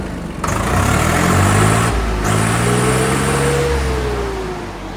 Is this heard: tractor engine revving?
yes